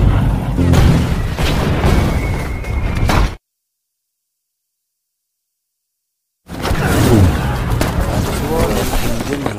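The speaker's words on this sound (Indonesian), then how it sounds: "serangan mendadak dari tentara Amerika membombardir markas Jerman" American bombardment of a German base in a 2011 war film: heavy booming explosions and rumbling under loud battle noise and voices, broken by several seconds of complete silence before the barrage resumes.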